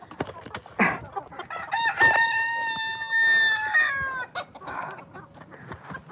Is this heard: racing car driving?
no